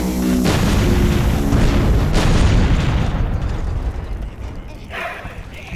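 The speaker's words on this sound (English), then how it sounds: "Yes, give them a bomb! So that it blows them." A bomb explosion in the video game Overlord, a loud, sustained booming blast with rumbling debris that fades slowly over several seconds, with a faint voice beneath it.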